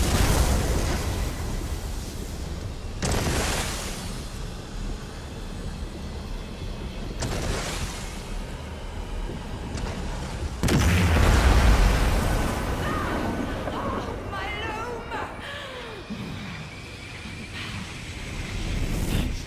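Ithelia's Loom is destroyed with the Abolisher in Elder Scrolls Online, with several heavy, roaring bursts several seconds apart that surge loudly and trail off into rumbling, crackling magical debris.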